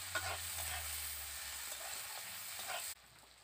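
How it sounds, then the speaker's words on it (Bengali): Onion sizzles in hot oil, a faint, steady, close hiss that continues evenly and then cuts off abruptly near the end. "পেঁয়াজটাকে প্রথমে ভালো করে ভেজে নেব তেলের মধ্যে"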